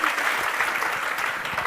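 Audience clapping loudly for a BPSC exam topper at a coaching-class event, a dense, steady burst of applause lasting throughout with no talk over it.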